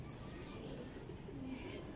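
Breeder pigeons coo softly in a low murmur beneath a hissy, noisy background, faint and fairly close.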